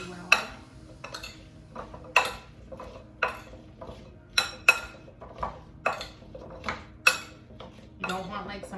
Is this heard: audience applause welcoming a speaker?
no